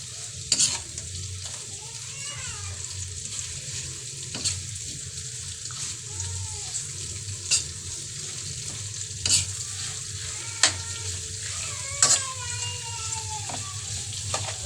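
Onions frying in a pan give a steady sizzle punctuated by stirring clicks and scrapes, alongside running tap water and faint background voices, close and moderately quiet.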